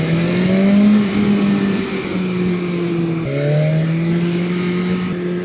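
A BMW S1000RR motorcycle engine drones steadily while being ridden on a German road, loud and close, with pitch rising as it pulls, one quick gear change, then holding a high-revving tone.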